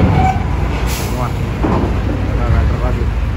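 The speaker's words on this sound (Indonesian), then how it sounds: "Truk lagi." A truck passing at Merak harbour, a heavy low engine rumble holding steady and close throughout, with faint voices in the background.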